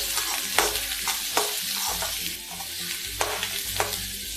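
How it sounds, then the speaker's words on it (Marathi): Chopped onion fries in a pan for kande pohe: a loud, continuous sizzle up close, broken by regular scraping and knocking strokes of a spoon as the onion is stirred. "हा एक कांदा कापलेला होता आपण तो टाकत आहे, कांदा चांगला ब्राऊन होऊ द्यायचा आहे"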